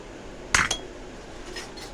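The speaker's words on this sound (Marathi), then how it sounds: "त्यानंतर चमचा, असे मी 2 चमचे घेतले." Steel spoons and small steel containers clink together as they are handled, two quick bright metallic knocks close by, then faint softer clinks after a pause.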